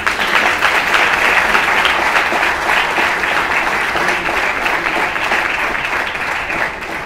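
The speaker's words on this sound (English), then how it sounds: "I think Office deserves some round of applause" An audience claps continuously in a dense, even wave of applause that holds steady and fades slightly toward the end, with no voices over it.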